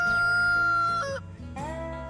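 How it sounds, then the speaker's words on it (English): Roosters crow loudly and up close on a farm set in a misty rainforest valley, one long sustained crow breaking off near the middle, followed by another overlapping crow with clucking fowl underneath. "and the roosters start to crow."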